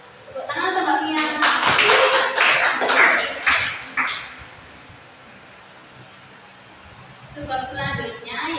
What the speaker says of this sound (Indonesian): Tepuk tangan untuk Mbak Pian.